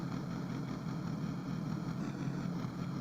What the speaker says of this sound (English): The idle.